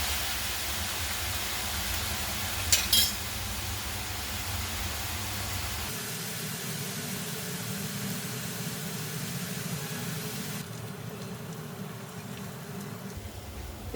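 Onion frying in a pan for an Indian gravy: a steady, even sizzling hiss that holds at the same level throughout, with a few brief clinks near the start.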